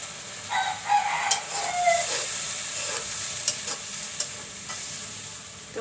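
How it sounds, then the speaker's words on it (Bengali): Spice paste for a Qurbani beef curry sautés in a pan with a soft, steady sizzle and several sharp stirring scrapes and clicks. A rooster crows faintly in the background early on, and no one speaks. "তো মশলাগুলো আমি একটু কষিয়ে নিচ্ছি।"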